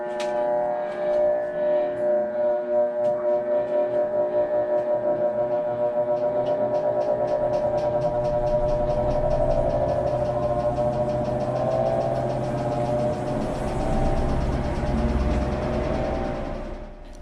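A Maytag/Whirlpool top load washer runs its high spin cycle, the drum's pulsing whir steadily climbing in speed and pitch into a loud sustained hum with rhythmic ticking, close by.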